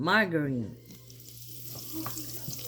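Oil and Star margarine sizzle softly in a pan, a low, steady frying crackle with a few small pops, following a brief spoken phrase at the start.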